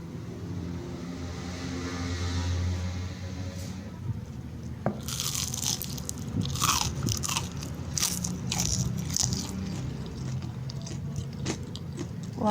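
Crisp, crackly bites into a fried Indonesian corn fritter (bakwan jagung), several close crunches with sharp crackle, followed by chewing.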